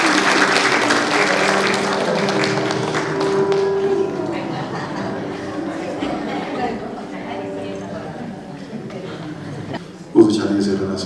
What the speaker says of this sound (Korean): 인사하며 큰 박수로